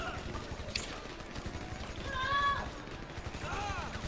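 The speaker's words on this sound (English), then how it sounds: "I'm getting shot on the right" Rapid gunfire in the GTA video game, a steady run of quick shots at moderate volume, mixed with faint game noise and brief tonal chirps, with no clear speech.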